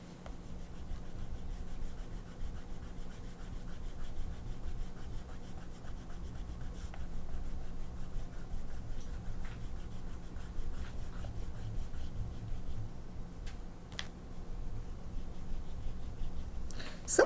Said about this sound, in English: Let's erase.